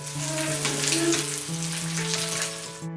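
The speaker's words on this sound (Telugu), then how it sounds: "ఈ వేడివేడి ఆయిల్ని స్పూన్తో చేపల ముక్కల మీద వేసుకుంటే ముక్కలు అన్ని సైడ్స్ ఫ్రై అవుతాయి" Pieces of big pomfret fish fry in hot oil as a steady close sizzle, heard beneath sustained background music, cutting off abruptly at the end.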